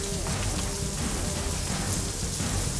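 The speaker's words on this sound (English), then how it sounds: "That's ice falling out of the sky" Sleet falling during an ice storm in Hammond, Louisiana, in 2014, making a dense, steady patter of ice pellets hitting surfaces close by, continuous and without talking.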